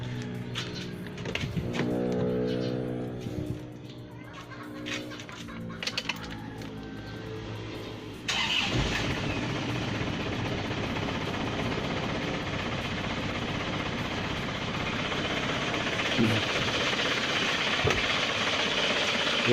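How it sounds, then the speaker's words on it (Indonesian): A car engine cranks and catches partway through, then settles into a steady, loud idle that runs on to the end, heard close up during a check of the oil pump with the oil filler cap removed. "Sekarang kita hidupkan mesin dulu."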